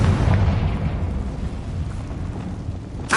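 A Confringo fire spell explodes in the video game Hogwarts Legacy, a loud low rumbling blast that fills the clip, with a fresh burst at the very end.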